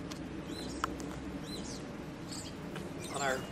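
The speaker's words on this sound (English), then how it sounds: "And even the birds sing with this one." Faint birdsong drifts across the grounds of a historic car museum campus, with scattered chirps and brief trills over a steady outdoor rumble, and a voice speaking at times.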